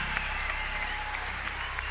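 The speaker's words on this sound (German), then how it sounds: "Round of applause for the Swedish lady." Applause from the audience at a TeenStreet 2009 youth gathering, a steady dense wash of clapping filling the whole short stretch with no break, carrying a low hum underneath.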